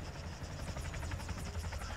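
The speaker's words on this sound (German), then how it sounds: "Voll der schöne Heli, oder?" Close rotor chop from a helicopter in Arma 3 pulses rapidly over a deep, steady engine drone, loud and continuous with no voices.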